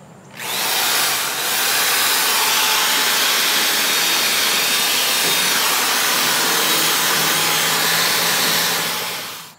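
A buffing wheel grinds oxidation off an aluminum boat hull, a loud continuous whirring hiss that spins up quickly and holds steady throughout before tapering off, with no talk.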